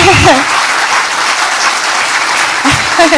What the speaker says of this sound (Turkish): Daha güçlü bir alkış lütfen.